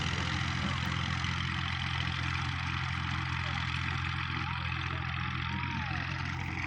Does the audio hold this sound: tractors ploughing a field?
yes